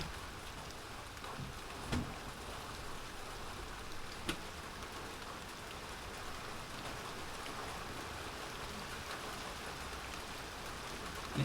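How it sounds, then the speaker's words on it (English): Sudden heavy rain pouring down steadily, a dense even hiss of drops hitting surfaces that continues unbroken throughout, with a couple of sharp louder impacts. "Just sudden rain."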